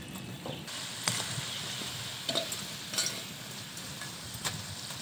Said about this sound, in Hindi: तो इसी तरह हम सारे आलू को फ्राई कर लेंगे।